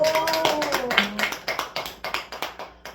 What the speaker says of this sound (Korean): 나 같으면 축하의 박수 한번 치고